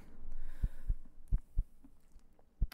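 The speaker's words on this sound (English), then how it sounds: "Why is my heart pounding?" A heavy heartbeat thumps in a horror video game, with low, deep beats in loose pairs over a faint hum and no voices.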